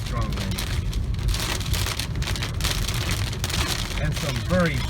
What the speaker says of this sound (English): And some very big raindrops.